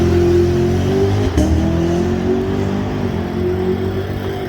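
A stock-engine Cadillac CTS-V launches on a drag track, its loud engine holding a steady, strained, droning roar that rises slightly in pitch as it accelerates, with a brief tire scrabble near the start.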